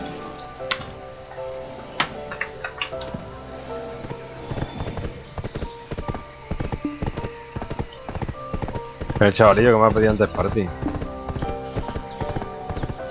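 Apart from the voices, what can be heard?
horse hooves clip-clopping, from a video game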